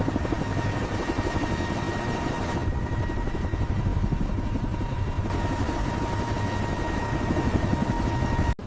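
A helicopter hovers over the ocean while lowering a cable, its rotor and engine producing a loud, steady, continuous thumping roar that persists throughout with no voices present.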